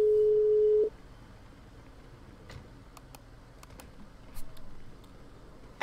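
A Grand Theft Auto V phone call rings out unanswered, a steady electronic tone that cuts off after about a second, leaving quiet clicks and faint tapping.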